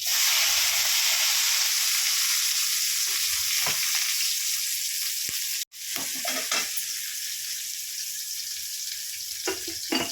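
Mustard seeds, green chillies, onion and curry leaves fry in hot oil, a steady loud sizzle with occasional stirring scrapes and one brief drop-out midway.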